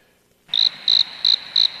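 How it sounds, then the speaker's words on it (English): A cricket chirping sound effect starts after a short silence, then four evenly spaced shrill trills follow in a steady rhythm, close and clear, with no talk. "Crickets?"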